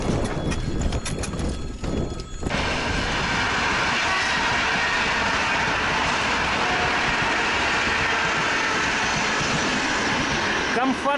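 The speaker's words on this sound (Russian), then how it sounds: "Комфортабельная электричка это проехала." An electric commuter train rumbles past close by, a steady dense roar with rattling wheel noise that holds for several seconds after a brief noisy start.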